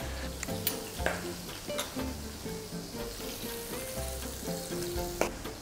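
Salmon fillet frying in a hot pan, a continuous crackling sizzle with scattered pops and utensil taps, fairly close and moderately loud, with no talking.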